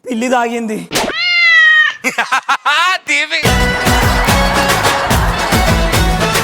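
A cat meows several times in drawn-out, rising calls, close and clear, and a loud burst of dramatic music then cuts in and runs to the end.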